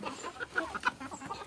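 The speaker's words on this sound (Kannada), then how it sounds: "ನಾಟಿ ಕೋಳಿ ಇದು" A village country chicken clucks in short, fairly close bursts, a busy run of calls with a few sharper peaks and no talking.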